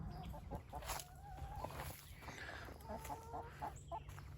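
Six hens in a chicken tractor cluck in short, repeated bursts close by, with a steady low hum and some rustling beneath them.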